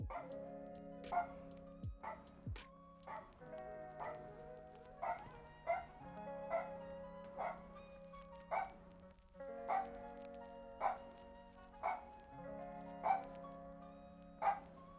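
Guard dog barking at someone at the gates, repeated sharp barks at a steady rhythm over fifteen seconds, fairly near and loud, with a few whimpers and yips between.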